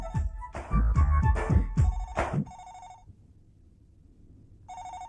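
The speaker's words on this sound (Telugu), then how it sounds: "ఈ టైంలో ఫోన్ ఎవడబ్బా?" A telephone rings in bursts of electronic ringtone tones, loud and close, overlapping a short stretch of clattering movement at the start, then pausing before ringing again; no one talks.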